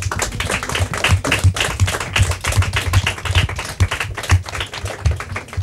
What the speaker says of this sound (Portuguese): Palmas para a Caravela.